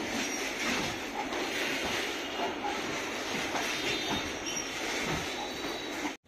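A train crosses the Godavari river bridge. The wheels rumble and squeal steadily and loudly at close range for several seconds, then the sound cuts off abruptly.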